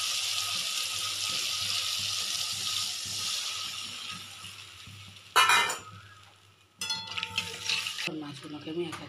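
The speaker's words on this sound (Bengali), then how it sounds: "এবার বেশ কষে যাচ্ছে, এভাবে একটু জল দিয়ে দেবো।" A spice paste sizzles steadily in a pan until water is poured in. Sharp hissing bursts follow, then bubbling and loud sputtering, heard close up.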